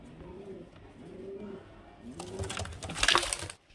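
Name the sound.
pigeons cooing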